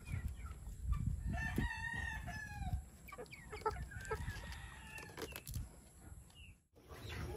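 Rhode Island Red and White hens and roosters at a breeding area cluck and crow, with a rooster's crow standing out over scattered clucking, all fairly faint and farther off.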